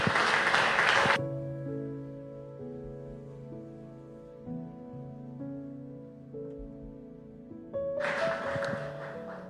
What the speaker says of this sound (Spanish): Denle un fuerte aplauso al Señor, mis hermanos.